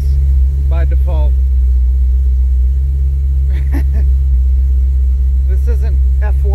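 A 1984 Dodge Ram D150 engine idles with a steady, deep, loud rumble that continues under occasional bits of talk.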